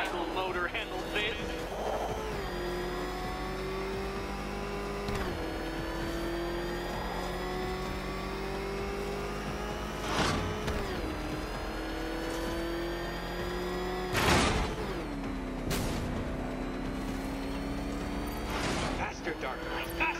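The Batmobile's engine revs in the video game Batman: Arkham Knight, a steady loud drone with repeated rising and falling surges as the car races along. A voice talks over the engine.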